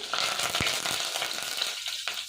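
Garlic and curry leaves sizzle in hot oil in a pan while a Malenadu-style radish sambar is cooked, a steady close frying hiss with a few soft stirring clicks and no voices.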